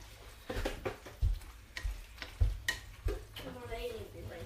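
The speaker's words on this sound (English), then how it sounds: "We're going to give it a stir." Spoon stirring through a bowl of homemade salad, such as coleslaw, potato or pasta salad, giving soft, scraping, wet swishes in uneven bursts close by, with no talking.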